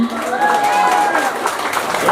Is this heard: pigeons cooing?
no